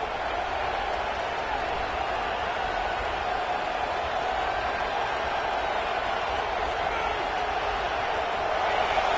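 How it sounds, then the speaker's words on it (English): A football stadium crowd roars in a steady, sustained wash of cheering noise that swells slightly toward the end, with no clear breaks or separate claps. "this crowd coming to life here, trying to help the defense get a stop"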